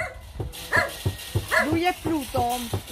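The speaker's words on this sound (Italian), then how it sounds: "Lui è Pluto, il cane che viene dal canile di Cosenza." A shelter dog from Cosenza gives a quick run of close, sharp barks and yips, with people talking in the background.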